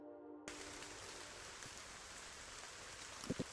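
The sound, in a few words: rain in a video game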